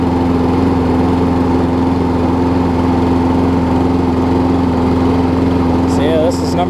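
A John Deere JS360 walk-behind lawn mower with a Briggs & Stratton engine and a newly fitted carburetor runs at a steady idle close by, a constant even drone throughout with a brief faint whine near the end.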